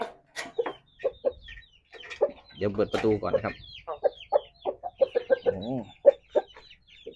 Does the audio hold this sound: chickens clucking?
yes